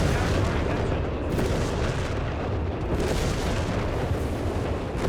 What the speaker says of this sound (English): it's the off-map airburst barrage he called in